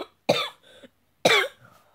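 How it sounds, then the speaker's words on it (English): Two sharp coughs about a second apart, each a harsh burst trailing into a short rasp, close by with quiet between them. "Why do you keep coughing?"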